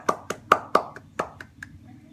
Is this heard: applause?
yes